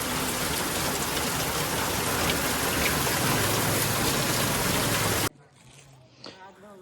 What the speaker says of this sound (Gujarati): પાણી પાણી વરસાદ પડે છે ધમ